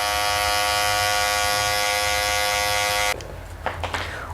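Electric hair trimmer buzzing steadily and close while cutting a mid taper fade, a bright continuous hum that shifts to rougher, choppier buzzing near the end.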